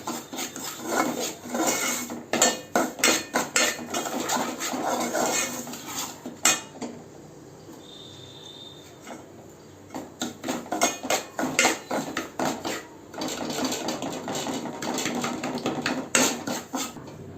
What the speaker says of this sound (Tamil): முதல்ல ஒரு கிளாஸ் ரவை எடுத்து போட்டுடலாம். நல்லா வறுத்துக்கலாம்.